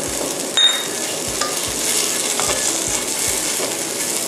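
Vegetables stir-fry in hot oil with a continuous loud sizzle and a busy, regular rhythm of spatula strokes scraping the pan. One sharper metallic clink stands out, all close up with no talk.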